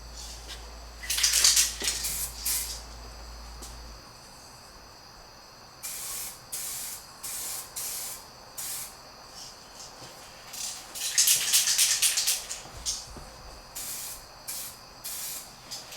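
Spray gun applying clear coat over car paint in repeated hissing passes, each a second or so long, close and steady, with brief pauses between strokes and a faint low hum underneath at the start.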